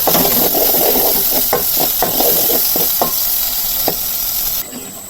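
Steady frying sizzle from tomatoes in a pan, with a spoon scraping and clinking against it several times.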